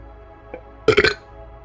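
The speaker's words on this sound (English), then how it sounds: "Some crazy person just ran up and burped into my microphone." A loud, close burp rumbles straight into a microphone, one short guttural blast of about a quarter second following a faint click, over a quiet background hum.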